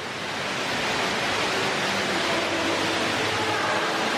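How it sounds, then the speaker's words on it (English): An underground waterfall in a show cave at Dan Yr Ogof in Wales makes a dense, steady rushing roar, broadband and unbroken, with no voices over it. "So, underground waterfalls."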